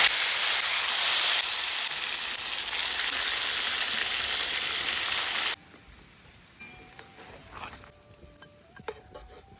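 Koi fish pieces drop into hot mustard oil in a wok, setting off a loud, steady hiss of frying that cuts off abruptly and leaves a much quieter crackle with faint clinks, close and without speech.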